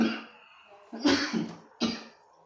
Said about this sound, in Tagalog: Ubo lagi.